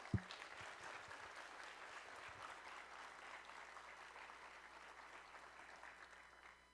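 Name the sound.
audience round of applause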